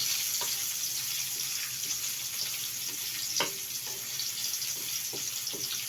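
Ginger frying in a pan at breakfast cooking, a steady sizzle with soft scattered clicks and stirring sounds and no talking.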